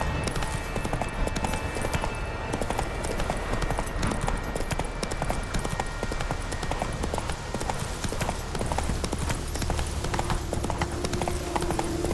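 Roach, the horse in The Witcher 3, clip-clops along at a steady gallop, hooves beating in a dense, continuous rhythm over a busy game soundscape, close and loud throughout.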